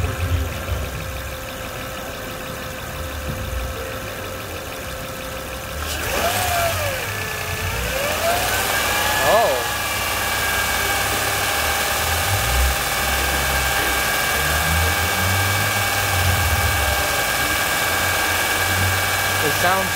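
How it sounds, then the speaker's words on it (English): A Honda Odyssey engine idles steadily, then is revved up briefly with rising and falling pitch, settling back into a loud, steady run with vibration. "I'll rev it up a little bit and we'll see."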